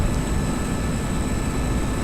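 Aircraft engine roaring during takeoff in a video game, a loud, dense, steady drone with a thin high whine running through it, constant throughout without speech.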